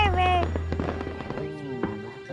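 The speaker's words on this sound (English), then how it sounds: "Fireworks." Fireworks burst and crackle during a fireworks cruise, with scattered sharp pops over a low rumble while excited voices talk and exclaim over them.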